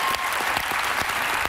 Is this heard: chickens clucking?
no